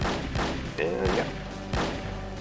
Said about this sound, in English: Just gonna shoot away at these demon here until he dies.